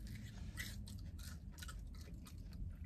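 Close-up chewing and crunching of spicy fried chicken at a casual meal with friends, with steady wet mastication and crisp crunches filling the clip, alone without talk.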